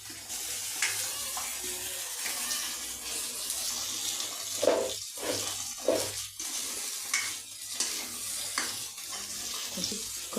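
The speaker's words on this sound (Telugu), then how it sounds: "ఈ మసాలా కూడా ఇప్పుడు ఆయిల్లో పచ్చి వాసన పోయేంత వరకు కొంచెం" Masala frying in oil in a pan on the stove for a paneer kaju masala, a steady broad hiss with wet crackles and a few louder stirring scrapes, no talking.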